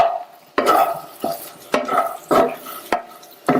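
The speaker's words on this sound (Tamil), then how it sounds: "உருளைக்கிழங்க சேர்த்துட்டு இந்த மசாலாலாம் நல்லா பிரட்டி விட்டுருங்க." Boiled potatoes being stirred and tossed into masala in a pan, a series of sharp metallic scrapes and clanks of a spatula at irregular intervals, close and fairly loud, with no voices.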